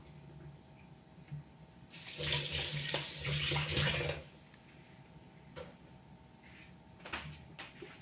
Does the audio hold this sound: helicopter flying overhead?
no